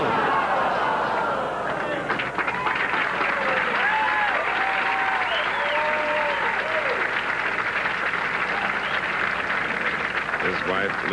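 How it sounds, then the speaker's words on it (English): A capacity crowd at a 1996 professional bowling tournament applauds steadily, a loud, sustained wash of clapping with a murmur of voices and someone speaking underneath. "Lisa and little Lindsay applauding along with this capacity crowd"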